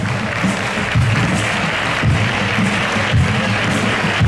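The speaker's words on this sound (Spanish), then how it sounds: "Pues, un aplauso, por favor" Audience applause after a performance, a steady wash of clapping from a gathered crowd at an event, moderately loud and sustained with slight swells.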